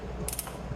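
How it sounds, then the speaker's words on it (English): A 3/8 drive ratchet with a 5mm hex bit turns a hex bolt during a valve cover gasket job on a 2008 Infiniti FX35, giving a short burst of three quick close clicks against quiet background. "I've got a 5mm hex bit and my 3/8 drive ratchet"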